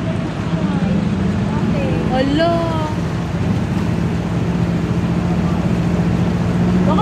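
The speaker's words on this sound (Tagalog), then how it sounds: "Grabe, halos lumubog yung tambutso na sinasakyan namin jeep," A jeep pushes through deep, widespread floodwater with its exhaust nearly submerged, giving a continuous loud engine drone and rushing water while people talk and exclaim nearby.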